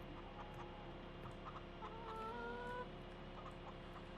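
Chickens on a Farming Simulator 2015 farm cluck faintly in short scattered bursts over a steady low machine hum, with one clearer run of clucks midway.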